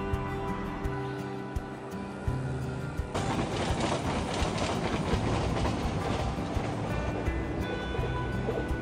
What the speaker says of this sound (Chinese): 约等了10分钟，拍摄到了一辆火车经过。